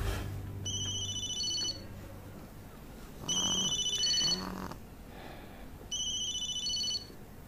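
A telephone rings in repeated electronic bursts, three rings spaced a couple of seconds apart, clear and fairly close in a quiet room with no talk.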